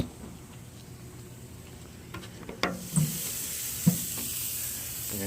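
Texas rub pork chops sizzle faintly on a grill, a soft steady hiss with a couple of brief pops and clatters partway through.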